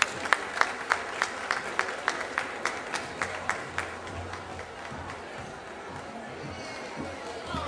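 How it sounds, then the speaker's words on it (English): Outdoor crowd at Harlem Week 2012 at Gracie Mansion claps for a TV news anchor, starting with sharp, distinct rhythmic claps close by that soften into a diffuse, fading applause with faint crowd murmur. "Round of applause for Dave Price."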